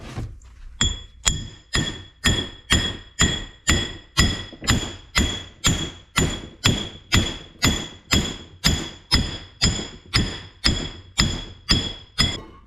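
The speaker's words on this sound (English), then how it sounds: "this simply just slides over the end of it like that to knock the seal on" A seal driver tool is hammered onto the front axle seal of a 2002 Ford F-250 4x4, over twenty sharp metallic strikes in an even, steady rhythm with a ringing clink on each blow, close and loud.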